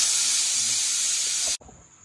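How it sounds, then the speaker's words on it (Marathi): A fish tawa fry sizzles loudly on a hot griddle, a steady bright hiss for about a second and a half before it cuts off abruptly, leaving only a faint residual hiss. "आता तवा फ्राय बनवते मस्त रेटी"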